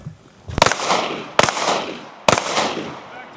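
Three sharp rifle shots crack out at roughly even intervals during U.S. Marine live-fire drills at Camp Lejeune, North Carolina, each loud report trailing into a short echoing decay outdoors.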